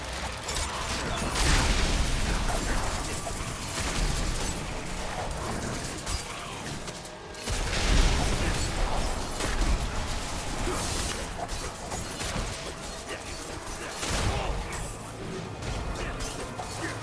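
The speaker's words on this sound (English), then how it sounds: "Lots of different explosions and shit here." Dense, continuous crashing and booming with debris-like crackle, repeated blasts swelling throughout, from explosions in Diablo IV.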